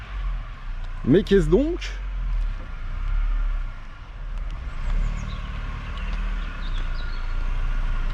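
An Audi 80 Compétition car approaches as a low, steady engine drone that rises and falls over several seconds, with a man's brief exclamation near the start.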